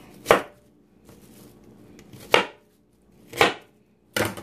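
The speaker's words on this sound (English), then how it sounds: "what we're going to do is just do a rough chop" Knife rough-chopping half a leftover onion on a board: four sharp, separate chops, close and loud, spaced about a second apart with quiet between.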